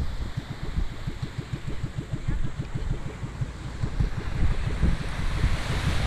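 Surf washing onto a white-sand beach at Capones Island, San Antonio, Zambales, a steady, close rush of waves mixed with wind buffeting the microphone and no talk.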